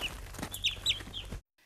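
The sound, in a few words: chicken clucking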